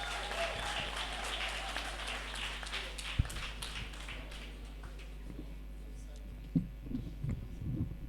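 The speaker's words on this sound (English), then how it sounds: "A round of applause for her." Audience applause at a festival welcome ceremony, a spread of clapping that starts full and gradually thins out over several seconds, ending in scattered claps, a few taps and a low background hum.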